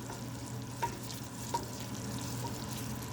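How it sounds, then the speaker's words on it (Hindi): Masala for chicken yakhni pulao fries on a high flame, making a faint, even sizzle with two light spatula taps against the pan. "ये देखिए मसाला पक रहा है इसमें। एक मिनट के लिए हमने हाई फ्लेम कर दिया है।"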